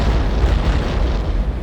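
A destroyed power bike blows up in the X-Com Apocalypse video game, a short, loud, rumbling blast with a deep low-end boom.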